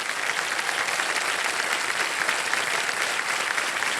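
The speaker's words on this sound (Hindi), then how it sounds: "एक बार जोरदार तालियां बज जाएं।" Studio audience on a televised quiz show breaking into loud, sustained applause, a dense steady clapping from start to end with no talk over it.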